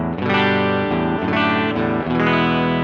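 An electric guitar plays through its bridge humbucker pickup with the tone knob pulled up, giving a bright, sustained, effects-laden chord pattern with distinct re-strikes, loud and alone.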